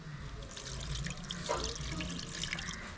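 Water is poured into beef in a pressure cooker, giving a steady, soft splashing stream for a few seconds, close up and with no speech.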